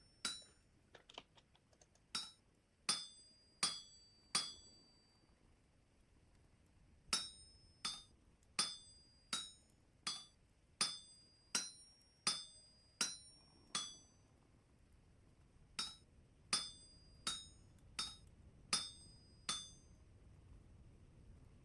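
A blacksmith's hammer forges metal plates in the Vintage Story game, landing about two dozen sharp, ringing clinks in evenly spaced bursts with brief pauses, each strike clear and isolated against a quiet background.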